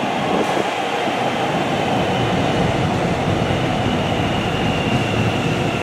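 A train runs steadily nearby, a constant loud rumble and rail roar with faint clatter throughout and no talking.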